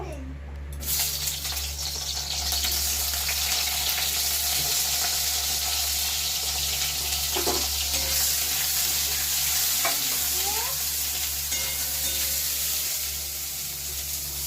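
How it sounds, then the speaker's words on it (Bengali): Eggplant pieces fry in mustard oil in a wok with a steady, even sizzling hiss that carries on throughout, joined by a few faint clinks and stirring noises and no voices. "প্রথমে আমি বেগুনটা ভেজে নেব।"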